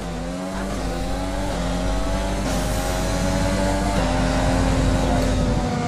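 A Formula 1 2020 Mercedes race car in a video game accelerates hard. Its loud engine whine climbs steadily in pitch and is broken by several gear shifts, with a continuous roar throughout.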